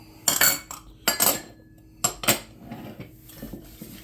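A utensil mixes icing of milk, melted butter, lemon juice and vanilla in a bowl, giving three bursts of scraping and clinking, then softer stirring, close and with no speech.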